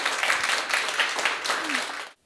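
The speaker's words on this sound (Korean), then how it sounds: "여러분 30년 동안 고생하셨다고 큰 박수 한 분만 부탁드립니다" Audience applause at a talk concert on education, a dense, steady wash of clapping from a crowd that holds for about two seconds, then cuts off abruptly.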